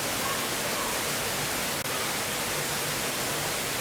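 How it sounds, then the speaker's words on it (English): Rainbow Falls at Watkins Glen pours steadily, a broad, even roar of falling water that continues unchanged. "This beautiful place is known as Rainbow Falls and is definitely not off the beaten track."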